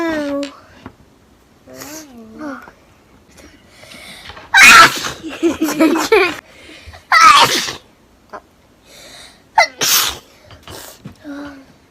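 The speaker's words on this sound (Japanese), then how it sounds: "くしゃみがちっちゃくて。" A small sneeze from a Japanese girl, with a few soft, short bursts between quiet stretches and children's voices chattering around them.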